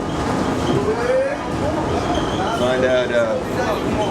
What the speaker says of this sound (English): So we take a little train ride.